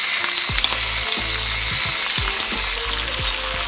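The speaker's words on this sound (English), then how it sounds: "to add some black pepper." A pepper mill grinds black pepper over shrimp frying in hot oil, producing a loud, close run of repeated ratcheting clicks in quick bursts over a steady sizzle.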